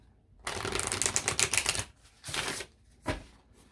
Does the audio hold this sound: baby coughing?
no